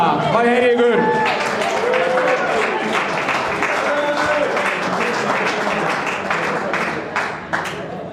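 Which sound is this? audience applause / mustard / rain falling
audience applause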